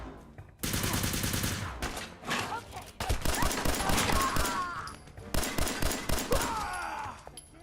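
Gunfire in the video game Fallout 4, with rapid automatic bursts and repeated shots in dense volleys and short pauses between them, loud and close.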